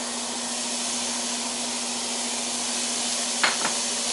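Onions fry in a pan with a steady, even sizzle that holds throughout, while turkey stuffing is being made. A couple of brief scraping stir sounds come near the end.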